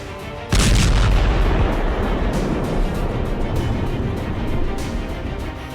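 An airstrike on Kabul with rockets and heavy bombardment: a sudden loud boom strikes, then a dense rumbling roar of continued blasts and crackling impacts rolls on steadily without pause; no speech.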